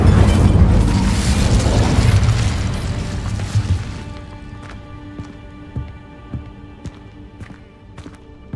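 Incendio fire spell cast in Hogwarts Legacy, a loud whooshing burst of flame that roars for about four seconds and fades, followed by quieter scattered footsteps and light clicks.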